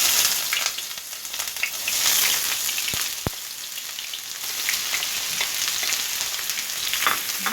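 Chopped onions frying in oil in a pot, a dense, continuous close sizzle and crackle with small pops, steady throughout with no talking.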